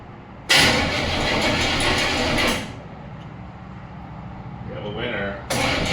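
The engine of a 1935 Chevy Master Deluxe cranks over in a loud, close burst of about two seconds, falls to a quieter lull with faint murmuring, then a second cranking burst begins.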